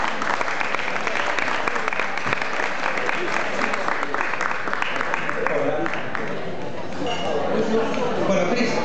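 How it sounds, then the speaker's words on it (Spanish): Loud, sustained audience applause from a large crowd, dense clapping filling the whole stretch with some chatter mixed in, easing slightly toward the end. "fuertes de aplauso"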